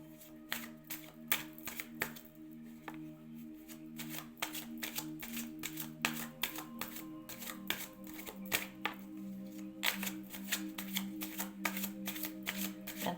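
Oracle cards being shuffled by hand, a quick run of crisp riffling flicks and soft slaps repeating steadily, close and quiet, with a faint tonal hum underneath and no talking.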